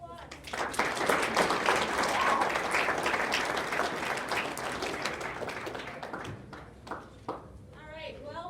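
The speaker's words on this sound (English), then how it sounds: "let's give him a round of applause." Audience at a Passion & Purpose event applauds at a moderate distance, clapping swelling quickly and then tapering off, with some voices mixed in.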